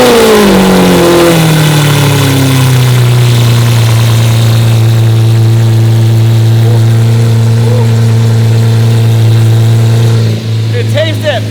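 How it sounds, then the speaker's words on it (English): Lamborghini Aventador V12 on a cold start, roaring to a high rev and then settling into a loud, steady, rich-sounding idle that holds close and continuous, with a few sharp clicks near the end. "Cold start on the Aventador."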